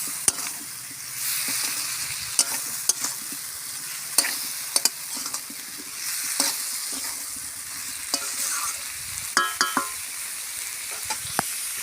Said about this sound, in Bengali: এখানে দেবো এই লঙ্কা আর জিরে বাটা, এটা দিয়ে আমি ভালো করে কষাবো।